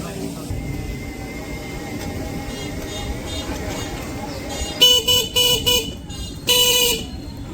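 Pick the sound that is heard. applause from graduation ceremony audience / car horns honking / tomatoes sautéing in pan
car horns honking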